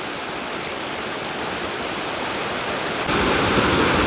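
A waterfall and river cascades in New Hampshire's Echo Lake to Lincoln area produce a steady, dense roar of rushing water that swells slightly louder near the end.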